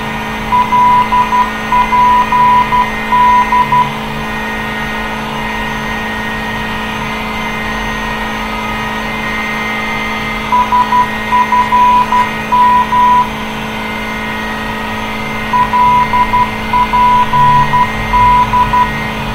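A Learjet 45 jet engine spools up in the game Flight Simulator 2002, a steady loud synthetic drone with layered tones, and an electronic beeping tone repeats in three separate intervals.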